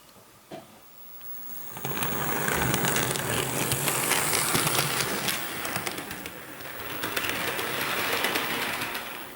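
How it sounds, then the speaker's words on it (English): An Athearn ready-to-run C44-9W HO model locomotive in BNSF Warbonnet livery runs steadily, giving a continuous close whirring motor hum with faint clicking for several seconds, alone without talk. "So, one second, let me just run the locomotive."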